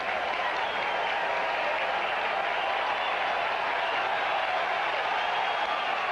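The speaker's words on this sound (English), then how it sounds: "The crowd applauding." Crowd at a baseball stadium during a Toronto Blue Jays at Chicago White Sox game applauding, a dense, steady wash of clapping that holds at an even level throughout, with no talk on top.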